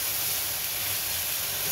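Green mole mixture sizzling in a frying pan right after being poured in, a steady, loud broadband hiss with no pauses and no talking.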